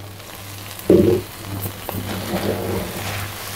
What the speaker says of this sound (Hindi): तो अभी बाकी की जो सब्जियाँ और चिकन वो फ्राई करेंगे।